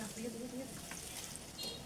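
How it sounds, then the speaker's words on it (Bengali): Crushed garlic frying in oil in a pan for olive pickle, a steady soft sizzle with faint stirring scrapes throughout, fairly quiet and continuous. "এবার এগুলোকে নেড়ে চেড়ে বাদামি কালার করে ভেজে নিতে হবে রসুনগুলোকে।"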